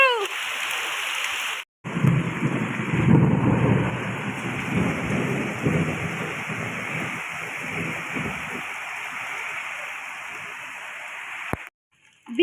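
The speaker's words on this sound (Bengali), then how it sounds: "মেঘ চমকাচ্ছে কিন্তু" Thunder rumbles low and heavy through a rainstorm on a road, with steady rain hissing throughout and a deep roll building then fading over several seconds.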